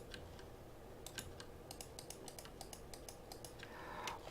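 Quiet computer keyboard typing: a steady run of light, irregular key clicks at close range, with no voices.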